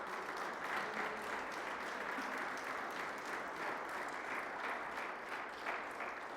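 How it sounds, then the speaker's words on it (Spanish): Church congregation applauding during a Spanish-language sermon, a steady wash of many hands clapping, moderately distant and even throughout with no talk over it. "¿Le podemos dar un fuerte aplauso a Dios?"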